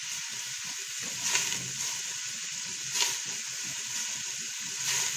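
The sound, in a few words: frying in a pot while cooking chicken kabsa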